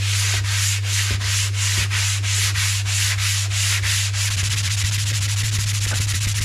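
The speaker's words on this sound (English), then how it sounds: "Got my little block sander right now. Just a piece of hardwood that's straight." A hand-held hardwood block sands the body of a 1957 oval-window Volkswagen Beetle in a garage. The strokes are close, steady and rhythmic, then blend into a continuous rub, over a low steady hum.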